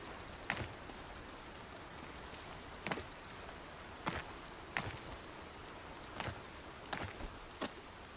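Steady soft rain hiss from the video game Horizon Zero Dawn, with scattered sharper drops or ticks standing out now and then; no voices.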